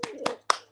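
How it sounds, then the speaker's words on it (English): Three separate hand claps, sharp and close, spaced roughly a quarter second apart with the last one loudest, ringing briefly in a quiet room during a morning radio show. "I clap. Let's clap"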